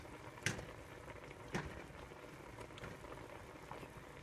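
A pot of rigatoni pasta at a boil gives a soft, steady bubbling and simmering hiss, with a few sharper pops and ticks in the first seconds.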